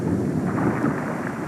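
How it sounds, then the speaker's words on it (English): A distant summer thunderstorm in the mountains, a low steady rumble with rain-like hiss, fairly faint and continuous. "a fierce summer storm is building up"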